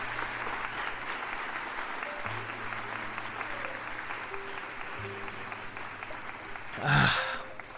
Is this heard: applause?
yes